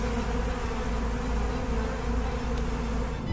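A dense, steady buzzing of a swarm of killer bees close by, loud and continuous with a low hum underneath.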